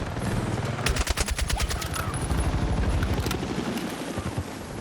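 Rapid bursts of gunfire aimed at a helicopter in Battlefield 6, loud and close, with a dense run of shots in the first half, then continuing chatter of fire over a steady roar of in-game battle noise.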